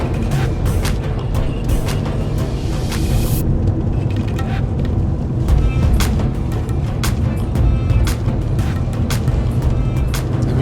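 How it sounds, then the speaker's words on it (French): An Alpine GTA sports car drives with a steady, loud engine drone heard from inside the cabin, with occasional clicks and bumps, continuous throughout. "Ah ouais, elle se réveille là."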